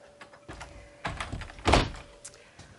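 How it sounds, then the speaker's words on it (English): Large two-way double door in a 2018 Grand Design Reflection 367 BHS travel trailer being handled: several close wooden knocks and thuds, with one louder clunk near the middle, in a quiet interior. "Large two-way double door."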